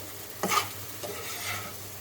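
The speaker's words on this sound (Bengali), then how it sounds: "আবার একটু উল্টিয়ে নাড়াচাড়া করে দিই" Fried tilapia fish and onion turned and stirred in a pan, a soft scrape and clink near the start over a steady low sizzle, then a quieter second stir.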